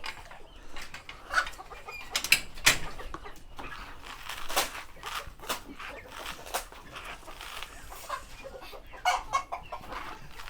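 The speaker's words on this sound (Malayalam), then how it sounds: "ഇതിനകത്ത് കോഴിയുണ്ടല്ലേ" Chickens cluck and squawk in scattered bursts, with a rooster-like call among them, a busy farmyard flock heard close up.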